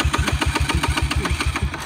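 Rapid, even chugging of a dirt bike motorcycle engine that will not start, a series of close thumping pulses at a steady rhythm.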